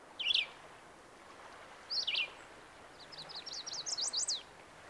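Birds sing in a spring pine forest, with short bright chirping phrases repeated in bursts, the last a quicker run of notes, clear against a quiet background.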